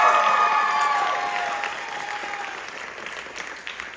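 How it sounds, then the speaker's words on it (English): A high school variety show audience gives a full round of applause during activity letter presentations. The clapping is dense and steady, loud at first, then tapering gradually toward the end. "let's give him a round of applause"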